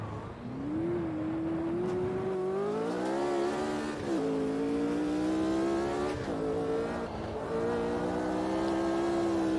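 A Formula Vintage race car on crossplay tyres in Automobilista 2 at the Red Bull Ring, its engine droning loud and close, climbing steadily through the gears with brief dips at each shift before revving again.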